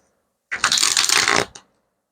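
A deck of cards being shuffled once, a dense riffling burst of about one second, close and fairly loud, ending with a short tap as the cards settle.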